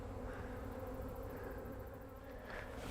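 Honey bees droning around a small swarm nuc hive during a newspaper combine, a close, steady buzzing hum that stays even throughout with no voices.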